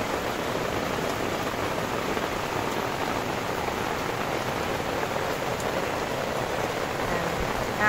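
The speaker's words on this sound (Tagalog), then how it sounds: "lakas ng ulan" Heavy rain pours steadily at a campsite, a dense, constant hiss of drops drumming on a surface, close and unbroken with no voices.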